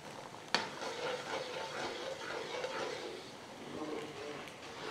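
A spoon stirs semolina roasting in a pan for suji halwa, a steady soft scraping and sizzling texture with one sharp clink near the start.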